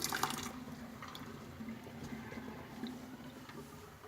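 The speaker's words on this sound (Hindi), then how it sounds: "अब आप देख सकते हैं कि मैं पनीर को स्टेन कर रही हूँ।" Whey water from freshly made paneer draining through a strainer, a soft steady trickle and splash held at a low, even level for about four seconds, with a slightly louder pour at the start.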